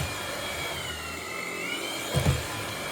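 A Dreame T30 cordless vacuum cleaner runs with a steady high whine, and its motor pitch shifts as it changes power level. A brief low thump comes near the end.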